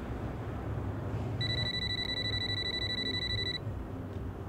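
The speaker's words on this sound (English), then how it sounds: "can you answer the effing phone?" A steady electronic telephone ring sounds for about two seconds over a constant low room hum, a single sustained high tone with harmonics starting and stopping abruptly.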